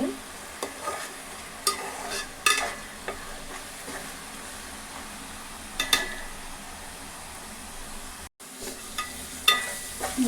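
Spice paste for a fish curry fries in oil with a soft steady sizzle, punctuated by occasional sharp scrapes and clinks of a spoon against the pan, close and without talk.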